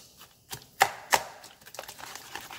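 Egg foo young batter with garlic powder is mixed in a bowl, heard as a few quiet utensil knocks and clinks in a sparse rhythm, with two sharper taps standing out over near silence.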